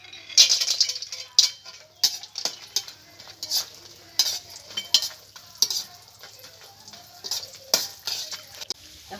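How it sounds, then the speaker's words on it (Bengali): Lentil dumplings (bori) frying in oil over low heat, heard as a soft sizzle under repeated clinks, rattles and scrapes of a spoon against the pan, coming in uneven bursts close by. "এখন আমি বড়িগুলোকে ভেজে নেব।"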